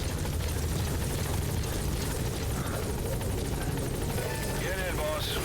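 A support helicopter in Metal Gear Solid V: The Phantom Pain rumbles steadily as it arrives, its rotor drone loud and continuous under game voices and speech.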